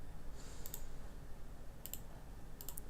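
Computer mouse clicks to run a program: three small, crisp double clicks spaced apart over a steady low background hum.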